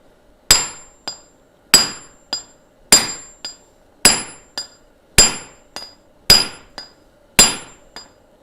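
Metal is hammered on an anvil during forging: seven heavy, ringing blows land at a steady rhythm, each followed by a lighter tap, sharp and close with bright metallic ring.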